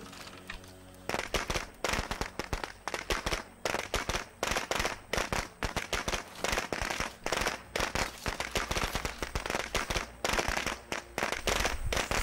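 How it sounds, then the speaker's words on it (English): Dense rapid crackling bursts of fireworks in the zombie survival video game State of Decay 2, popping loudly and continuously like a string of firecrackers with no talk over it. "Fireworks?"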